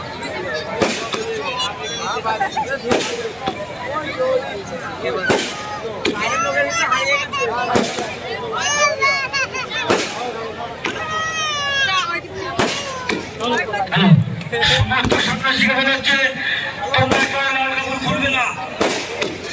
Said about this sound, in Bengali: বাজি বাজি